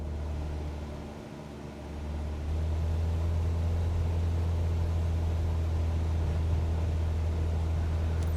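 A light aircraft engine at throttle in Microsoft Flight Simulator 2024, a steady low droning hum that swells slightly louder after a couple of seconds and then holds constant, with no voices.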